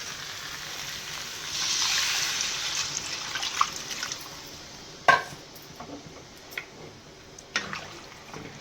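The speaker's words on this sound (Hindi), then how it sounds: "तो पानी एड करदे" Water added to a pan of potato curry, a soft hissing pour swelling and fading, followed by a few sharp clinks and taps of utensils against the pan, close and quiet without speech.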